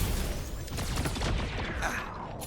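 An elevator in the video game Guardians of the Galaxy rumbles and clanks steadily, with dense mechanical grinding and rattling throughout and a brief brighter metallic scrape near the end.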